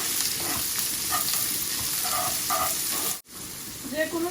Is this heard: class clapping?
no